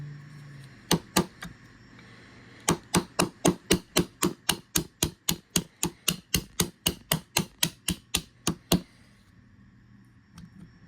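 Steady hammer blows drive out the mainspring pin of a Springfield Armory Prodigy 1911 DS pistol with an aluminum grip, about two dozen sharp metallic taps in a fast even rhythm after two opening strikes, close and loud.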